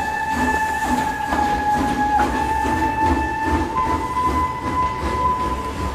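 A train rolls steadily along rails on the Puerto Deseado to Colonia Las Heras railway in Patagonia, with continuous rumble, rhythmic clickety-clack and faint wheel squeal throughout.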